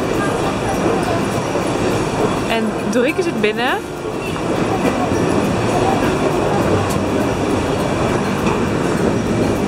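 A train at a station in Stockholm rumbles loudly and continuously, with a brief squeal of wheels early on and a voice speaking over the noise.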